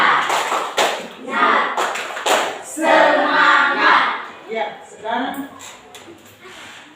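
A standing group doing a rhythmic spirit clap in a teachers' coaching session, several bursts of patterned clapping with pauses between, mixed with voices calling out and chanting along.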